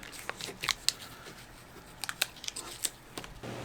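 Painter's tape being torn and handled while repairing trailer wiring, with a few sharp ripping and crinkling bursts over a faint background hiss.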